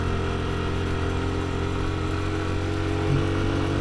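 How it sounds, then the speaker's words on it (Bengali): A motorcycle engine runs steadily near Marishya on the Baghaichari road in Rangamati, a continuous mid-pitched drone with a brief rise near the end, no voices. "এখানে সবচেয়ে বেশি বাহন ইউজ করা হয় সেটা হচ্ছে মোটর সাইকেল সবাই এখানে মোটর সাইকেল ইউজ করে"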